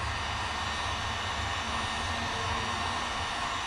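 A heat gun warms vinyl graphics on a Yamaha YZ426F dirt bike, giving a steady, close, even blowing hiss with a low fan hum and no talking.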